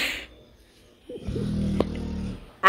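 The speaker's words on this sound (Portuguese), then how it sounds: "A minha cachorra que tá roncando, que essa ronca" A dog snores indoors in a single drawn-out, rumbling breath of moderate loudness, with a brief snort in the middle and short bits of background noise before and after.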